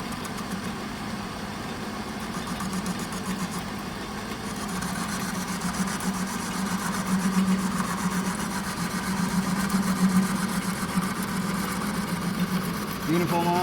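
A lathe in a manufacturing technology laboratory runs steadily while machining a workpiece, a continuous mid-pitched mechanical hum that swells slightly partway through, with a voice speaking over it.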